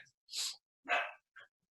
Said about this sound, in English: If you hear dogs in the background, they're excited.